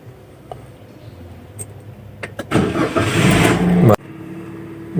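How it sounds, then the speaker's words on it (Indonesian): A manual car's engine is started with a turn of the key: a few faint clicks, then the starter cranks for about a second and the engine catches and runs at a steady, loud idle before cutting off. "Untuk menyalakan mobil, kita putar 1 kali."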